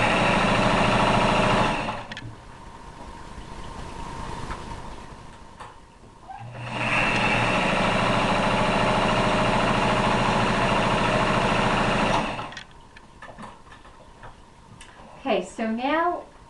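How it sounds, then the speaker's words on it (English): A sewing machine stitches around the edge of a fabric runner, whirring loudly for a couple of seconds, pausing, then running steadily for about six seconds more before stopping amid clicks, with a voice heard near the end. "sewing around the edge of the runner."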